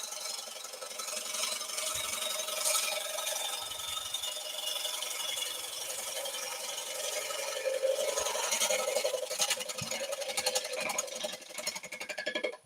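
A wood lathe spins a bowl blank as a tool cuts it, giving a continuous rubbing, rasping whir with scraping textures that grow rougher toward the end, close and without talk.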